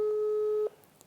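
A telephone busy signal sounds during a live broadcast call: a steady electronic tone holds for about two-thirds of a second, then cuts off, leaving faint background noise.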